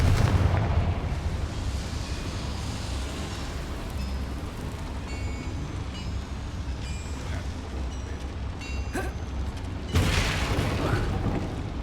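Spell explosions from Bombarda and Confringo in the Hogwarts Legacy video game: a dense, sustained rumbling roar of blasts with crackling debris, swelling again into a heavy burst near the end.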